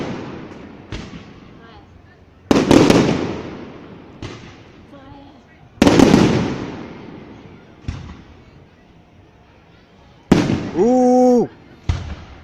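Christmas fireworks boom in several heavy, echoing blasts spaced a few seconds apart, loud and rolling, with people exclaiming between bursts.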